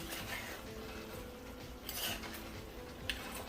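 Jamaican oxtail is stirred in a pot on the stove, with quiet metallic scrapes and a few sharp clinks of a utensil against the pot over a low background hum.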